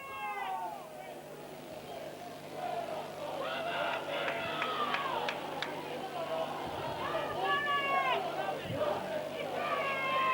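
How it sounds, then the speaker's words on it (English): Spectators at a 2005 Barrow versus Widnes rugby league cup match make a steady crowd murmur with occasional shouts rising. A commentator talks continuously over the noise. "Now the crowd's starting to get a bit anxious with Barrow."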